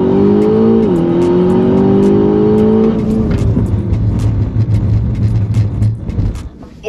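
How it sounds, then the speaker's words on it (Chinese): An Aston Martin DBX on standard P Zero tyres accelerates hard from 0 to 100 on a Shanghai race track, its engine note climbing loud and steady, dipping at a gear shift near one second and again around three and a half seconds. "我们现在做0到100加速。"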